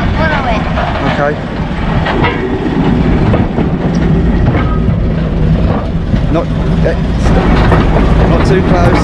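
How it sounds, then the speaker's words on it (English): A train rumbles past close by at Chatham Dockyard, with heavy low rolling noise and rhythmic clickety-clack of wheels over rail joints, loud and continuous. "Here's the train."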